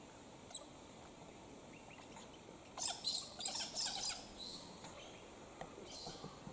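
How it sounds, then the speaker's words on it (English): An elegant parrot calls outdoors in the Australian bush: a brief cluster of high, thin chirps in the middle, faint and somewhat distant, with a few scattered soft tweets before and after and no speech. "Another elegant parrot."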